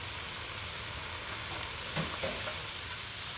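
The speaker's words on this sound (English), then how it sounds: "Oh, it's sizzling really nice" Onion paste frying in a pan for an Indian-style shrimp creole, giving a steady close sizzle with faint stirring scrapes and no voices.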